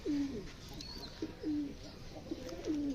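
Domestic pigeons in a loft coo in repeated soft, rolling phrases, three or four close calls spaced about a second apart over a quiet background.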